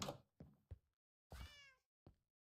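A house cat meows a few times nearby, short drawn-out cries separated by quiet gaps, with a couple of soft thumps between them and no talking.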